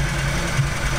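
An LS-swapped nitrous Chevy S10 engine, just cleared of water, tries to fire up, giving a steady, loud, low rumbling drone with faint irregular knocking throughout.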